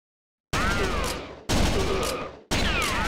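Rapid gunfire bursts from the arcade shooter Virtua Cop 2, three loud back-to-back volleys of crackling shots with brief gaps between them, close and dominant.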